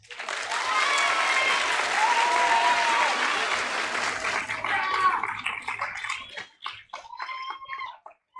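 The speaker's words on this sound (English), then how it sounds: "I believe the class of 2024 deserves a round of applause" An audience applauds the graduating class of 2024 at a graduation ceremony, a loud, dense burst of clapping that thins out to scattered claps and trails away near the end.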